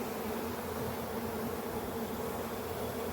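Honey bees buzz densely and continuously in an open hive during an inspection, a steady close swarm drone with no pauses.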